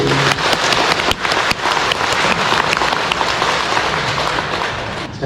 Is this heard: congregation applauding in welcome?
yes